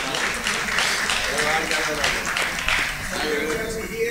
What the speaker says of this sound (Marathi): विनंती आहे आपण जोरदार टाळ्या वाजवायच्यात।